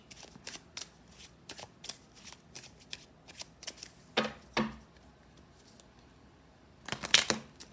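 Tarot cards being shuffled by hand in short, crisp riffling bursts with small pauses between, ending in a louder flurry, close and otherwise quiet with no talking.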